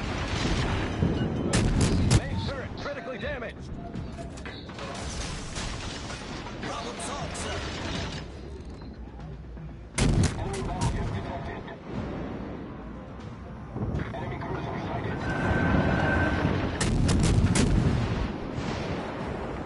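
Warship main guns fire in World of Warships naval combat, heavy booming salvos recurring in bursts at about two, ten and seventeen seconds over continuous battle rumble, with a player talking throughout.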